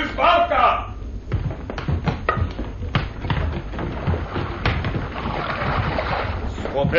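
A rowboat is lowered into water in a Romanian radio drama adaptation of a Jules Verne sea adventure, with wooden thumps, knocks and water movement under wind, while voices shout commands at the start.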